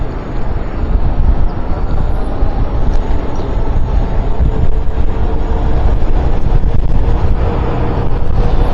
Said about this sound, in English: It's just funneling this wind right into my face.